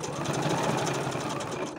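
A sewing machine stitches through thick layered fabric at the end of a zipper, a fast, even mechanical chatter running continuously at close range with no voices.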